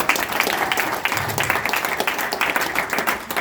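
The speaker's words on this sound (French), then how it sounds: "Voilà, je crois qu'on peut l'applaudir." Clapping from an audience at a business leaders' meeting, a steady patter of many hands lasting a few seconds with fairly even loudness throughout.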